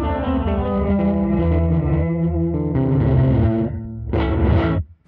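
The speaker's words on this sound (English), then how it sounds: "So really interesting kind of trippy gated reverb there." An electric guitar played through a Fender effects pedal set to gated reverb rings out in loud, trippy chords, the tail chopped abruptly before a final strum that cuts off sharply at the end.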